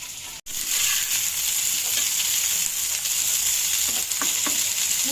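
Mixed vegetables with cauliflower sauté in a pan, a loud, steady hiss of frying close by, briefly cut at the start and touched by a few soft stirring clicks toward the end.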